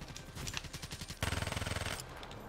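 Automatic weapon fire in Black Ops 3, fast rattling bursts of close gunshots, one rhythmic volley giving way to a denser, louder stream of rapid shots before stopping.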